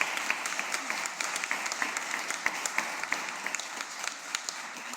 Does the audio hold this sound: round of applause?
yes